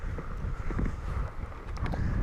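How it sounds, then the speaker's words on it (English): Wind gusts by the River Nidd during waggler match fishing, buffeting the microphone with a steady, rough low rumble that has no talking over it. "You can see that wind's becoming a little bit nasty now"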